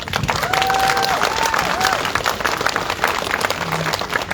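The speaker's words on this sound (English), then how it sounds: "An applause." A crowd at an outdoor livestreamed event applauds for a speaker, with scattered cheers and whistles over sustained clapping.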